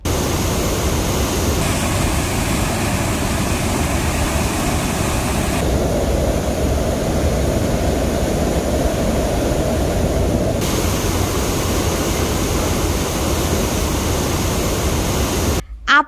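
The Savatkada waterfall in Barpuda village, Kaprada, plunges about 100 feet in full monsoon flow, a loud, constant broadband roar that fills the whole stretch without pause.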